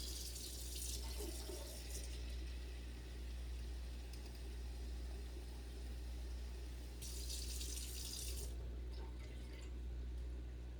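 Tap water runs into a measuring cup for chocolate checkerboard cake batter, a steady stream with brighter splashing bursts near the start and again near the end, with no talk.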